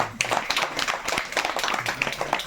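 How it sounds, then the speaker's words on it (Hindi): At a Modicare home gathering, a small audience claps for the next speaker, a quick run of fairly close, uneven hand claps over about two and a half seconds. "ताली बजा।"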